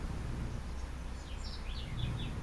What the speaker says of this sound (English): All you doing is hearing birds chirping.